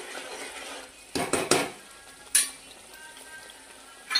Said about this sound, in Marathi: तरी सुद्धा थोडं परतून घ्यायचं, थोडं काय कच्चं राहिलं असेल तर